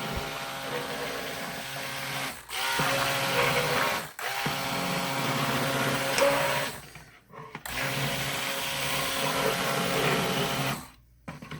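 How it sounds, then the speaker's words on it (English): A motorized stick blender whirs steadily in long bursts through hot process soap batter, stopping briefly a few times before starting again; no talking. "try and keep my blender under the liquids so it doesn't splash up"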